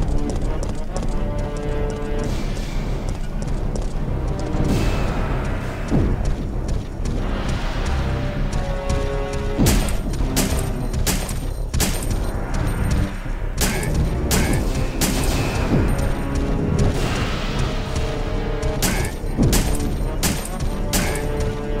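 Rapid gunfire bursts in a video game nemesis battle, sharp repeated cracks loud over a continuous dense backdrop of game music and effects, with some talk.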